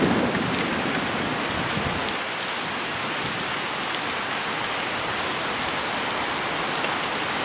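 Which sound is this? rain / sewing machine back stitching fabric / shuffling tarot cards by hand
rain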